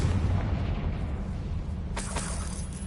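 A Confringo blasting spell explodes in Hogwarts Legacy, a loud, dense rumbling boom that sustains throughout, with a sharper crackling burst partway through.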